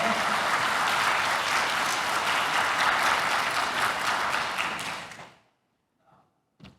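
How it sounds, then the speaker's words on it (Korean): An audience at a 2022 Saemangeum job fair session breaks into dense, loud applause that holds for about five seconds, then fades quickly into near silence with a few faint knocks. "박수 한번 부탁드리겠습니다"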